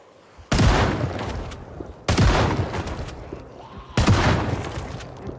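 Gunfire in the video game Project Zomboid comes as three heavy, booming shots spaced about one and a half seconds apart, each trailing off into a rumbling decay.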